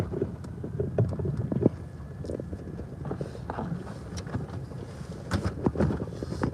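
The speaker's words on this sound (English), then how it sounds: "See the wind's picking up? I don't know if you can notice that. Definitely some wind out there." Wind buffets the microphone while driving on a highway through an industrial area, a low, rumbling gusty roar with sporadic thumps and bursts, moderately loud and steady with no voices.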